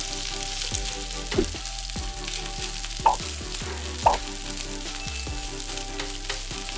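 Rice, about 150 grams, stir-frying in melted butter in a pan for Japanese omurice. A steady close sizzle runs throughout, with several sharp spatula scrapes and knocks against the pan at irregular intervals.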